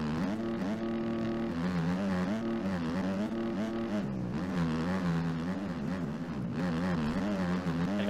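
Motocross bike engine in the MX Bikes game at a Lommel track, revving continuously with a wavering, rising and falling pitch as the rider works through bumps, loud and steady throughout with no talking.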